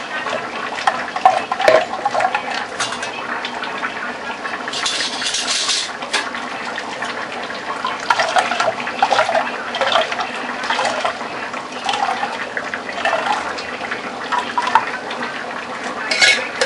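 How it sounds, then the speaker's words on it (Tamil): Ground coconut strained through a filter to draw out coconut milk produces a loud, close, continuous trickle and splash of liquid, with occasional clinks of a vessel. "ஃபஸ்ட்டு அரைச்சி வச்ச தேங்காவை ஃபில்டரில் ஃபில்டர் பண்ணி பால் எடுத்துக்கோங்க."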